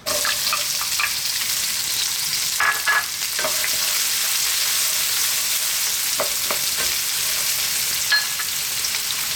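Onions frying in a little oil in a pan: a loud, continuous sizzling hiss heard up close, broken by a few short scrapes and clicks of a utensil, with no talk.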